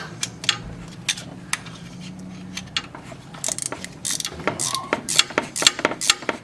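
Ratcheting clicks and metallic clanks from a 13 mm wrench working loose the A/C compressor mount bolts on a Mercedes SLK230, close and irregular, busier in the second half, with no talk.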